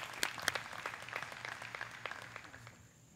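Disc golf gallery at the 2021 DDGC final round giving scattered outdoor clapping, a handful of sharp claps that thin out and fade over a few seconds.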